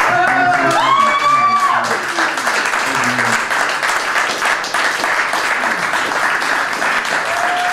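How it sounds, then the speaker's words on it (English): A round of applause from the audience at a steel band performance, dense clapping with some crowd voices at the start. "I'm going to give a round of applause for this."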